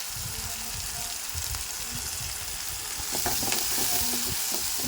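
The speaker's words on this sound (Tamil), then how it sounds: "வெங்காயம் நல்லா வணங்கிட்டுருக்கு, வணக்கிக்கலாம்." Chopped onions, green chillies and country tomatoes sizzle and sauté in a pan while being stirred, a steady close frying hiss with scraping stirs, and no talk.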